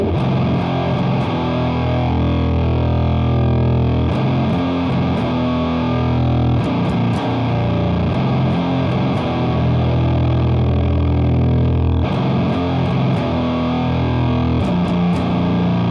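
A heavily distorted electric guitar in drop tuning plays a low, chugging doom metal riff with palm-muted notes and sharp accents, loud and continuous with no voices.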